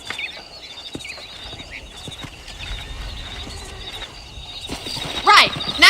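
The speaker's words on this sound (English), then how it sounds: "Let's see if we can't wrangle some horses." Horses in Red Dead Redemption, hooves clip-clopping at a steady pace with a whinny rising near the end, set among faint birdsong and someone speaking.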